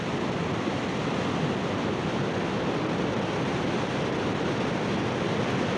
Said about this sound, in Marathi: ही मर्सेड रिव्हर आहे आणि पाणी खूपच इथे जोरात वाहतं.